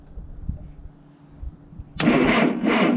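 A cheap used forklift engine turns over: a low, faint rumble for two seconds gives way to a sudden loud, rough cranking churn that continues steadily to the end.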